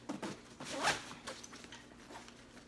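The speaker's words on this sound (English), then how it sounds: "And at this point, I'd probably start to zip it," A Kelty Sira 45 women's hiking backpack is zipped close by, a quick rasping zipper pull with a few soft fabric rustles and handling noises around it, fairly quiet overall.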